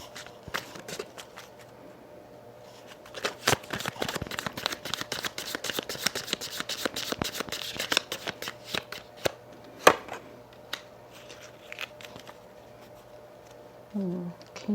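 Tarot cards shuffled by hand in close, rapid riffling bursts that swell and pause across the stretch, ending with a few softer handling sounds, with no talking.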